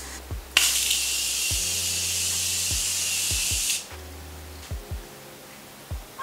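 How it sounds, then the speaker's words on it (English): A Morphe Continuous Setting Mist sprays onto a face in one long, steady hiss of about three seconds, close and loud, with a few soft clicks and bumps before and after. "set my face with my Morphe Continuous Setting Mist"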